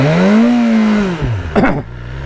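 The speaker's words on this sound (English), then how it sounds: "That's not a real burnout, that's just leaving my mark." A BMW S1000R motorcycle engine revs loudly through a brief burnout, with a falling, sweeping pitch that then settles into a lower idle rumble before a short, sharp rev burst near the end.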